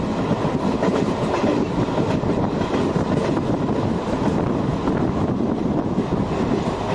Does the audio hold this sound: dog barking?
no